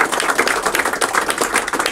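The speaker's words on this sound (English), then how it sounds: "Please give them a round of applause" At a medal ceremony, a small audience breaks into brisk applause, a quick patter of close hand claps that is steady and moderately loud, with no talking.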